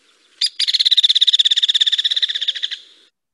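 A recorded woodpecker gives a whinnying call on playback: one short note, then a long, fast run of evenly spaced pulses that fades slightly toward the end, clear and alone.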